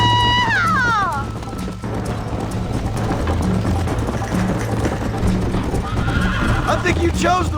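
A horse whinnies loudly in Red Dead Redemption, followed by steady galloping hoofbeats under a continuous low rumble, with another neigh near the end and voices speaking over it.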